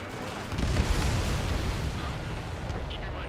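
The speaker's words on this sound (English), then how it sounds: "What's the explosion?" Explosions and combat rumble in the Ace Combat 7: Skies Unknown jet fighter game, a steady, dense low roar of booms throughout, with no distinct single blast standing out.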